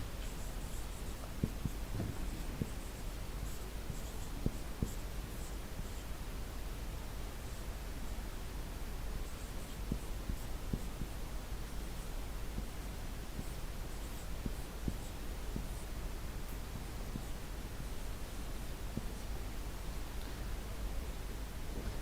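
Chalk or pen faintly scratching out an equation by hand in a lecture hall, quiet intermittent strokes and taps over a steady hiss of room noise, with no voice heard.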